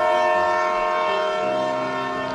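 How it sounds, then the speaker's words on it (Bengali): A train moving through the night gives a continuous loud tonal drone, like a sustained horn or whistle over steady rail rumble, unbroken for a couple of seconds. "ট্রেন যেন অন্ধকারকে ছিঁড়ে চলেছে।"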